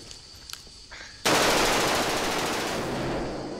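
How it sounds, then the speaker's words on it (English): A smoke grenade thrown during SAS-style training bursts with a sudden sharp pop, then a loud, sustained hissing rush that fills the space and slowly tapers, after a few faint clicks beforehand. "You said it was a stun grenade."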